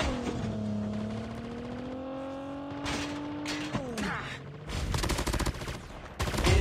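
Gunfire from a video game shooter with a weapon-combo loadout, bursts of rapid shots arriving late after a stretch of vehicle engine drone, sharp and fairly close.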